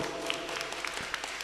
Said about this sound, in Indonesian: Saya kepingin mendengarkan tepuk tangan yang keras untuk kita semua dulu.